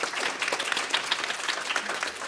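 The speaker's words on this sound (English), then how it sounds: "Maybe let's give them a round of applause." A brief burst of audience applause for a student panel at a women's summit: close, lively clapping from a modest crowd, dense and even throughout.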